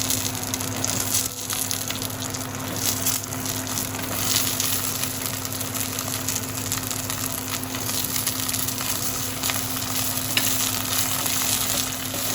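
Chopped onion, about 100–150 grams, and peeled garlic sauté in hot oil in a pan for a dried fish curry, giving a steady, close frying sizzle with occasional stirring and no voices.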